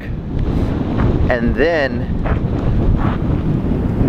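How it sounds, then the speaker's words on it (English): Strong wind buffets an outdoor microphone with steady low rumble throughout, while a person talks over it. "it is like ridiculously windy right now"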